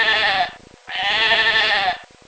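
A sheep bleats twice, with long wavering baas close and clear, separated by a brief gap; the bleats may be a voice imitation within a children's nursery rhyme recording.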